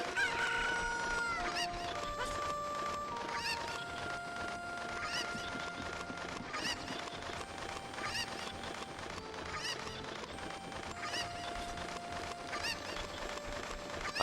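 Cuckoo chickens in Zelda: Ocarina of Time clucking and squawking in repeated short bursts over game music, fairly close and moderately loud throughout, with no talking.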